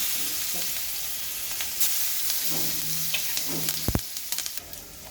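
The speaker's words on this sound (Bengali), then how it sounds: "পেঁয়াজটা ভাজা হয়ে গেছে, এবার দিয়ে দেব সরিষা।" Crushed onion, garlic and mustard fry in hot oil for a cauliflower vegetable dish, a steady close sizzle with stirring, a brief hum, then a sharp knock and clattering utensil taps near the end.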